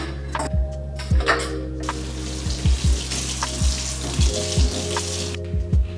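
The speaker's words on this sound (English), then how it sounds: "First, you need to fill the container with water" Water running into a container from a tap, a steady close splashing and rushing stream that lasts several seconds, broken by a few louder knocks and clicks.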